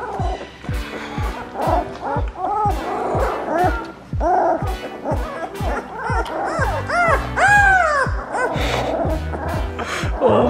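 Several puppies bark and yip in rapid, overlapping bursts, close by, with some whimpering mixed in.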